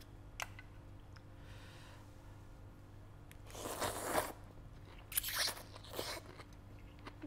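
Someone takes crunchy bites while eating Vietnamese chicken and bamboo noodle soup. Two quiet, close clusters of crisp crunching are heard, with no talking.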